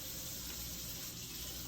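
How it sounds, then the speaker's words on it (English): Tap water runs steadily over a bowl being rinsed in a kitchen sink, a continuous close hiss and splash with no voices. "I don't put this bowl in the dishwater without rinsing it first"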